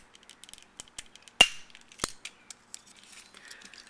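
Small plastic tabs on a Yamato 1/60 scale YF-19 Prototype No. 4 toy being unlocked, heard as a run of sharp, quiet clicks and snaps close to the microphone, with one louder crisp snap near the middle and no voices.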